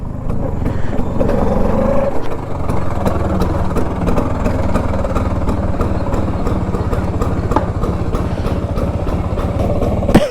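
A Bajaj Super FE scooter engine idles close by, a steady loud putter with a rattly, clattering rhythm that runs unbroken for the whole stretch.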